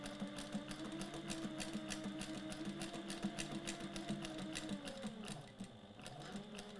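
A Sailrite Fabricator walking foot sewing machine stitches through a thick stack of nine fabric layers, giving a steady, loud, close mechanical chatter that slows and labors briefly near the end before picking back up.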